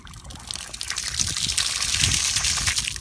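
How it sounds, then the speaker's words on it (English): Water running from a newly replaced outdoor hose faucet hydrant after the supply is turned back on at the street, a steady close trickling gush that swells slightly and keeps flowing alone. "I turned the water back on at the street."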